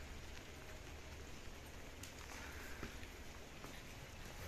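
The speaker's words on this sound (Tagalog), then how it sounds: "Rain, go away." Steady rain falls on a cold, wet day in Riyadh, a continuous soft hiss of drops with no other clear sounds and no talking.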